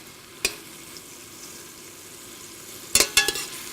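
Red onions sizzle in a frying pan with a soft, steady hiss, broken by a few sharp clicks and scrapes of stirring, with louder clattering near the end and no talk.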